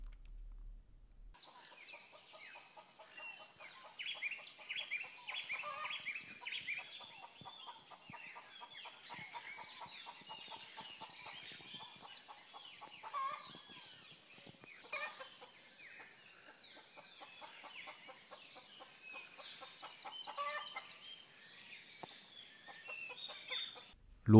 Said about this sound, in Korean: 브라질에서 녹음한 새소리도 있어요